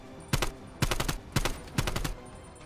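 Four short, evenly spaced bursts of rapid gunfire ring out close and loud in Call of Duty Black Ops Cold War, each a quick cluster of cracks separated by brief pauses.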